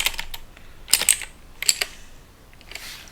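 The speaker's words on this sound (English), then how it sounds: "And then if we go and type docker ps again," A short command is typed on a computer keyboard as two quick clusters of close, crisp key clicks with a pause between and a faint tap near the end, and no voices.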